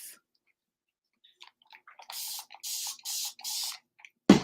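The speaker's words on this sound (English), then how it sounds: "I'm going to spray this down with alcohol" Four short, evenly spaced hisses of alcohol sprayed from a spray bottle close by, followed by a dull thump.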